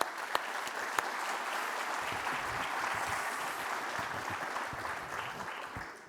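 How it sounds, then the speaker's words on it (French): Steady applause from the audience at a round-table discussion on responsible artificial intelligence in the building industry, broad and even clapping with a few sharper claps near the start, sustained throughout. "Je pense qu'on peut déjà dans un premier temps vous applaudir"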